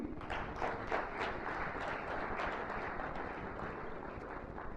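A conference audience applauds at an international colloquium as a guest speaker is introduced. The applause is steady and fairly faint, with a dense patter of many hands that holds evenly throughout.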